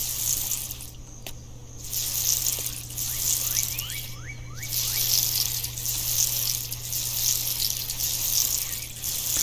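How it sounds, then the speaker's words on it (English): Water pours steadily from a watering can over crops in the farming game Dinkum, a continuous splashing hiss broken by short pauses, with a low steady hum beneath and faint game chimes. "We will water these because I have wheat seeds."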